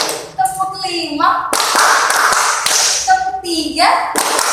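A classroom counting clapping game: bursts of children's claps and taps come between stretches of chanted counting voices, the hand sounds loud and close, overlapping the voices.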